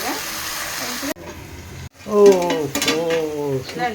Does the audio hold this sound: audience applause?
no